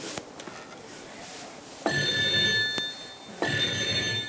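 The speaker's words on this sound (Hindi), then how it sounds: "चौकसी महाराज को फोन लगाता हूं" A telephone rings in two bursts with a steady electronic tone, separated by a pause, over low background hiss.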